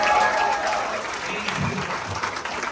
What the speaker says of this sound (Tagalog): Wala na bang ilalakas ating mga palakpak?